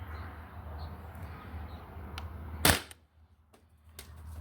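A Sabre 68 HDL air rifle fires one sharp shot through a chronograph, cutting through steady low background rumble. The scene turns noticeably quieter afterwards.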